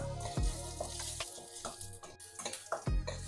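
Ginger garlic paste fries in hot oil in a pan with a steady close sizzle, broken by a few louder scraping stirs of a spoon against the pan; no voices.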